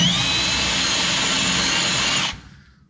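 A power drill bores out a hole in the floor panel of a Volvo PV 544, a steady high whine running for about two seconds before spinning down and stopping.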